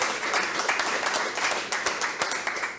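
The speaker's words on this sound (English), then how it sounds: "Big round of applause." An audience at a talk on dystopian fiction breaks into a round of applause, a fairly moderate mix of many hands clapping with distinct individual claps standing out, continuing evenly throughout.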